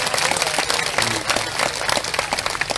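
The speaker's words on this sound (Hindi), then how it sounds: "आप लोगों के लिए जोर जबरदस्त ताली हो जाए" Dense audience applause at a Bhagavatam religious gathering in Hapur, many hands clapping together in a steady, lively burst that fills the whole short stretch at moderate loudness.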